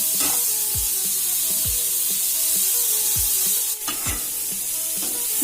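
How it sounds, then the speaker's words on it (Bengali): Steady sizzling of shrimp frying in a hot pan with salt and turmeric, with soft periodic scrapes and taps as it is stirred. "লবণ আর হলুদ গুঁড়োটাকে চিংড়ি মাছের সাথে মিশিয়ে নিয়ে দু মিনিট ভাজা ভাজা করে নিতে হবে"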